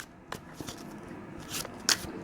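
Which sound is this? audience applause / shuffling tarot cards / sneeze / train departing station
shuffling tarot cards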